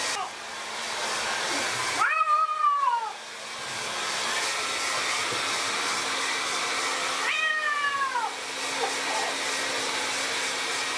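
A cat meows and cries twice, loud and drawn out, over the steady whine of a hair dryer running throughout; no talking.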